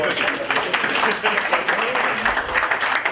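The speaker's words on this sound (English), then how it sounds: "Please give yourselves a round of applause." A round of applause at a business event, steady clapping from a group with voices talking over it throughout.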